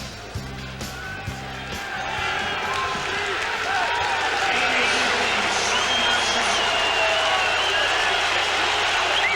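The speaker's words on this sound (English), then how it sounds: "That's how loud the crowd is." Roaring football stadium crowd at a Canadian football game between the Winnipeg Blue Bombers and Montreal Alouettes, a loud, dense, continuous swell of cheering that builds and holds, with a broadcast commentator's voice underneath.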